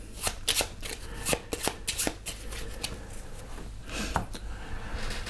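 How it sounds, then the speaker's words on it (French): A deck of cards for the board game Wingspan is shuffled by hand in a run of quick, crisp riffling bursts, close and fairly quiet. "je remélange son deck"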